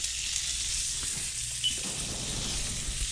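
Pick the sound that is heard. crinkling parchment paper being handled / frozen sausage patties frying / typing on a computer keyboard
frozen sausage patties frying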